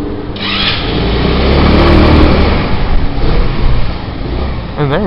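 Harley-Davidson motorcycle engine running close by, a loud rough rumble that swells in a rev and then settles into a choppy idle, with a person speaking briefly near the end.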